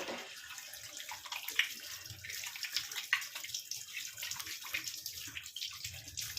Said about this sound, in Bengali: হাতটা ভালো করে ধুয়ে নিচ্ছি